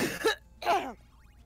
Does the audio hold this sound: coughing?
yes